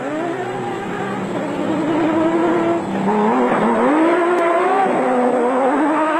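A Nissan Hardbody off-road race truck in a 2003 South African dealer race, its engine loud and close with rising and falling revs as it pushes past other trucks, a steady roar throughout.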